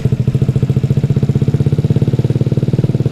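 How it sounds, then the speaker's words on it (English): Honda Ruckus scooter with a 58.1cc engine running steadily, a close, loud rhythmic putter with rapid even pulses from the muffler and no talk over it. "Muffler sounds good. It's running like it should."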